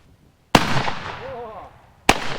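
A filthy, neglected shotgun fires two old, questionable shells: two sharp, loud blasts about one and a half seconds apart, the first trailing off in a long echoing decay outdoors.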